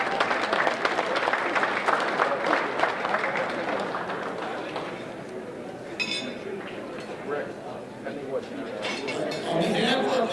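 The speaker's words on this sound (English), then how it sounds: "So one round of applause for the Hall of Famers." An audience at a Long Island Metro Lacrosse Foundation Hall of Fame event applauds the honorees, dense clapping at first that thins out, with crowd voices and a few clinks of dishes in the background.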